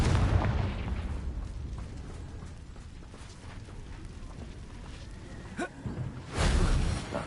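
In the video game Hogwarts Legacy, a Confringo blasting spell erupts in a heavy booming explosion that rumbles and fades, followed by crackling debris and a second burst of blast noise near the end.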